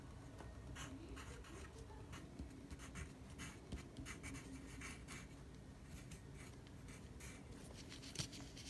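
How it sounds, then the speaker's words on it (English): Pencil writing on a card, faint scratchy strokes in quick irregular bursts, close and quiet throughout with no talk. "we're gonna get a pencil and we're gonna write whatever you want"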